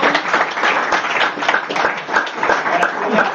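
Dense audience applause fills a room at an August 2019 Micronaut Data developer meetup, a steady close wash of many hands clapping with no break for the whole stretch.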